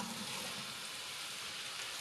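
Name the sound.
onion sizzling in hot oil in a pan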